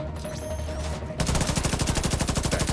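Rapid automatic turret gunfire in The Division 2 video game breaks out after a second of quieter game ambience, a loud, evenly spaced burst of repeated shots running steadily to the end.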